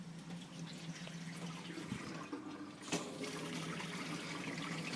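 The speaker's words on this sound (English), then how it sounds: "The reason I open the faucet up is just to purge the air out of the system" Water runs through an under-sink filter system and out of an open faucet, a quiet steady hiss with a brief sputter partway through as trapped air is pushed out.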